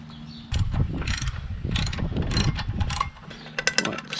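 A ratchet wrench loosens a 5/8-inch bolt on an outboard motor's gearbox, giving rapid close metallic clicking in quick bursts that stops briefly and then ends with a few sharp clicks.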